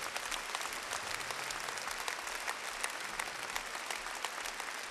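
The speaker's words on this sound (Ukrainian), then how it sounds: "ваші оплески" A concert audience in Kyiv applauds in 2012, a dense, even clapping from a large crowd sustained for five seconds at moderate distance, with no one speaking.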